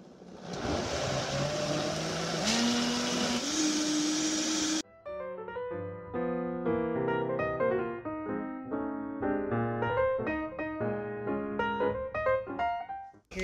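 A kitchen blender whirs loudly as it blends chocolate hummus, its motor pitch rising for several seconds before it cuts off abruptly and music takes over.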